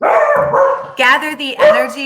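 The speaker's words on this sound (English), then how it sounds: "Sorry about my dog." A dog barks several times close by in a home, sharp yapping bursts that come in quick succession right alongside someone speaking.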